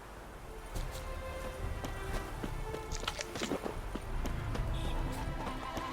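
Roach the horse from The Witcher 3 gallops with steady clip-clop hoofbeats that run throughout, mixed with game ambience and other brief sounds.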